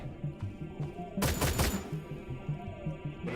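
Gunfire from a pistol in a video game rattles off in a short, rapid cluster of loud shots over a steady rhythmic background hum.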